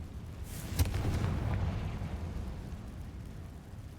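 A fiery Confringo spell blast in Hogwarts Legacy, a single deep boom with a burst that rolls on as a low rumble and slowly fades.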